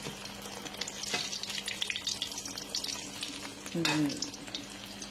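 Food frying in hot oil in a Thai home kitchen, a continuous crackling sizzle with stirring and scraping, and a louder burst of bubbling near the end as more goes into the pan.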